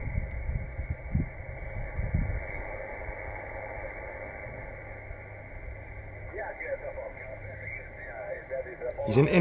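Radio noise picked up by a homemade magnetic loop antenna built from a bicycle wheel, a steady band-limited hiss with faint low rumbles, continuous throughout and rising slightly near the end.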